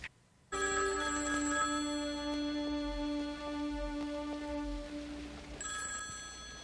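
A telephone rings with a sustained electronic bell tone, loud and close, stopping briefly near the end before starting again.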